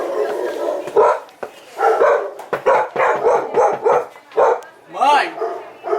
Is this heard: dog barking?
yes